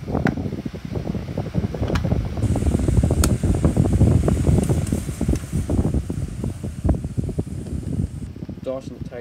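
Several 12-inch desk fans running together on low speed with oscillation, a steady close whooshing airflow with rhythmic rustling buffeting as the heads sweep back and forth, continuous throughout.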